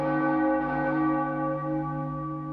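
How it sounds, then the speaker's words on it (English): A single handbell rung as a channel's encouragement bell, its clear tone sustaining and slowly fading over a couple of seconds, alone with no talk. "This is the new encouragement bell for my channel. So I will sometimes put it out and just ring it"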